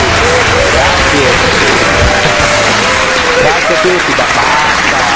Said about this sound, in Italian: il pubblico pensa che alcuni di voi sono stati pagati per applaudire